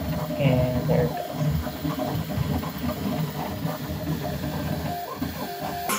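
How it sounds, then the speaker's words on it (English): A Bambu Lab X1 Carbon 3D printer starts printing a Benchy, giving off a steady mechanical whir with small stepper-motor chirps and fan hiss, heard close and continuous. "Okay, so now it's gonna start printing the Benchy."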